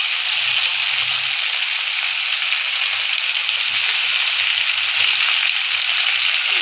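Potatoes frying in a pan, a steady close hiss and sizzle that runs unbroken throughout with no voices.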